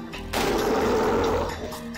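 Gunfire from the video game Gorky 17 rattles in a dense burst of about a second, loud and close, then cuts off.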